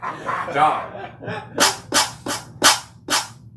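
A dog bark sample triggered on a drum pad fires about five sharp, loud barks in a quick, evenly spaced run, after some softer voices and yelps at the start.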